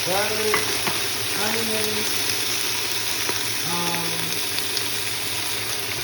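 Vegetables hit a hot pot already holding garlic, onions, pepper and a red wine mixture for oxtails, giving a constant loud sizzle over a low steady hum, with a few short tonal voice-like sounds early on.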